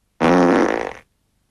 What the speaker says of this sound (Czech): Standardní každodenní prd.